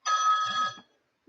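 Telephone ringing for an incoming call: one bright, buzzy electronic ring lasting under a second, close and clear, followed by silence and a brief low sound.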